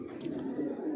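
Racing pigeons of the Johnson line coo inside a loft, a low, soft murmuring hum that runs continuously and close by, with a brief higher flutter or chirp early on.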